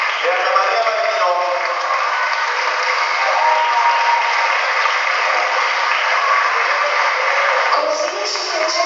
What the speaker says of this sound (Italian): I ragazzi hanno bisogno dei vostri applausi